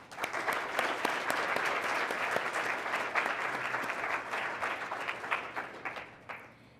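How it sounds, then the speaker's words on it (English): An audience at a Canadian Club Toronto event for a career panel breaks into a big round of applause, a dense crowd clapping that holds steady and then tapers into scattered claps. "Let's give our career panel a big round of applause."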